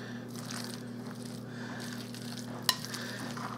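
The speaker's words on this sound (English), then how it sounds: "I think I got it pretty well mixed in here now." Potato salad stirred in a bowl, soft wet scraping and squelching strokes over a low steady hum, with one sharp clack of a utensil against the bowl near the end.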